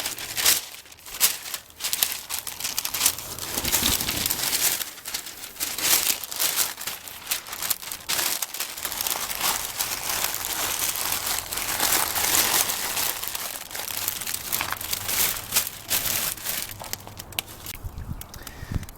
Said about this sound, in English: we just got it wrapped in the butcher paper, parchment paper, on the grill